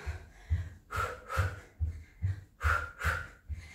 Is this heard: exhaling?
yes